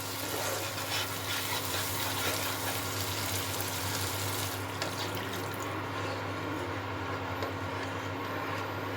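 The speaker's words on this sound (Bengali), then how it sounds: "এর মধ্যে এখন আমি জল মিশিয়ে দেবো" Water poured into spice paste frying in oil in a pan, for a papda fish curry: a steady rushing gush that eases and quietens midway, with no talking.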